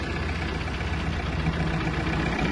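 A Mitsubishi MT-26 Japanese mini tractor's engine runs steadily with the power take-off engaged and the rotary tiller lowered, a close, continuous mechanical drone with no voices.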